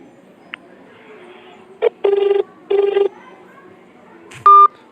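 A mobile phone dials a bank's balance-enquiry number to place a missed call: a faint click, then a short beep and two longer bursts of dialing tone, ending in a sharp electronic beep, all over a quiet room hiss.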